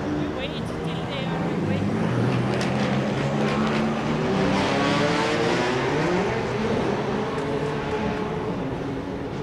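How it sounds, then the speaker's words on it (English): Race car engines drone and rise in pitch as the field rolls off for first practice at Circuit Mugello in a racing game, loud and continuous under a commentator's talking. "the cars roll off for the start of first practice"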